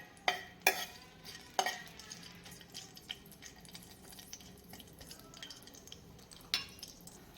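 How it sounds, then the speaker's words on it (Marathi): Whole spices frying in oil for a white mutton soup, a faint low sizzle with sharp clinks and scrapes of a spoon stirring against the pan, several distinct knocks early on and near the end, no talking. "दोन मिनिटभर आपण ते मसाले जे आहेत हे तेलावर परतून घेणार आहोत"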